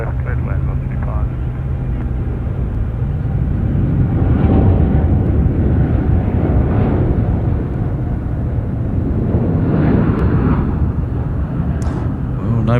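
A Cathay Pacific Boeing 747-8 takes off at Sydney Airport, a loud, broad jet roar rising and swelling across the runway, with a voice speaking intermittently over it.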